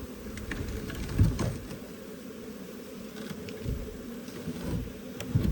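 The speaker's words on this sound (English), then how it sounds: "I'm noticing in my truck there's like bees" Africanized honeybees swarm inside a pickup truck during a hive relocation, giving a steady low buzzing drone with a few brief louder swells as individual bees pass close.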